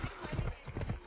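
Phobos the horse galloping in Assassin's Creed Odyssey, with a steady repeating clip-clop of hooves close up and a brief whinny hinted.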